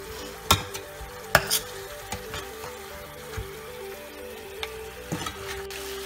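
Chicken biryani gravy simmering in a pot, a quiet bubbling sizzle with scattered soft pops and occasional clinks throughout, no voices.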